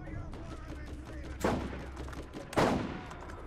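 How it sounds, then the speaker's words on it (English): Two loud sniper rifle shots in the video game Borderlands, about a second apart, each a sharp crack with a short tail, over low game ambience and faint background noise. "the fire rate on this sniper rifle is a lot better than what I had"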